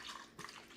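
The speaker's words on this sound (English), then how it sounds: "So I'm gonna pour the mixture on the blender" Liquid mixture with condensed milk pours into a blender, a soft continuous splashing trickle close by, rising briefly midway before settling.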